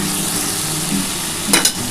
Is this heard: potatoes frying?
yes